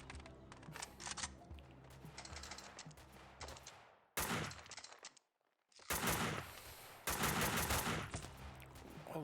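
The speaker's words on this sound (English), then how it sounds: "Oh lord, where are they shooting me from?" Gunfire in the video game Max Payne 2, bursts of loud shots and clattering impacts separated by a brief near-silent gap, then heavier volleys resuming, sharp and close.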